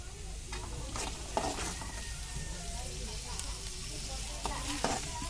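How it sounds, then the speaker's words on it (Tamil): Onions sizzle in hot oil in a pan while being stirred to brown them, a steady close frying hiss broken by scraping stirring strokes, with faint talk underneath. "வெங்காயம் போட்டு அது நல்லா ப்ரௌன் கலர் வர அளவுக்கு நம்ம அதை நல்லா கிளறி விடணுங்க."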